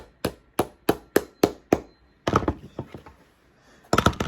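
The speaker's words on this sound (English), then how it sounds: "Then I'm just going to hammer it down." Hammer blows drive a nail into a handmade wooden Swedish clog: six sharp, evenly spaced strikes, then a looser cluster of lighter taps and a final pair of quick hits, close and loud with no talk.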